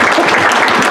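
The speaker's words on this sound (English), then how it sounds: "please give him a round of applause for reading that." Brief, loud burst of clapping from attendees at an Arkansas GOP district meeting, a dense wash of many hands lasting about a second with no voices over it.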